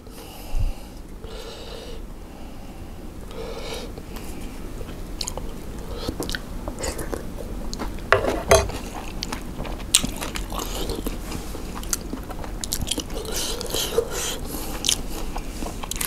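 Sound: eating and chewing papaya salad with rice noodles

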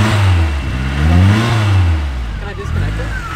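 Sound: car engine revving with turbo whine

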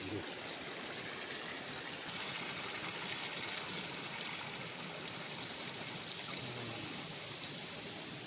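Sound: pouring ground spice paste with water into a brass pot

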